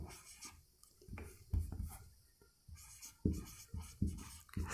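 Chalk or marker writing on a board during a maths lesson gives irregular scratching and tapping strokes in uneven bursts, close and fairly quiet, with no talk.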